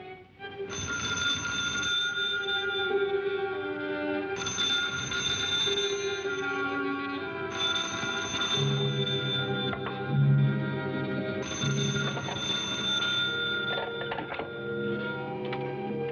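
An electric doorbell rings in long repeated bursts, loud and insistent, with a brief gap between each ring.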